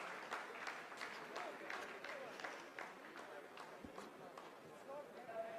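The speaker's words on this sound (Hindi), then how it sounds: "आप इस तालियों के गड़गड़ाहट को सुन सकते हैं" Scientists' applause in a mission control room after a lunar lander completes a braking phase of the Chandrayaan-3 Moon landing: a steady, dense roll of clapping runs throughout, with voices murmuring underneath.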